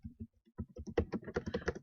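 Fingers tap quickly on a computer keyboard, a close, soft run of clustered keystrokes that grows busier toward the end.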